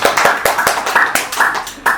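Listeners at a Buddhist dharma talk clap together in a quick, steady rhythm, close and fairly loud, with about ten sharp claps in a short burst.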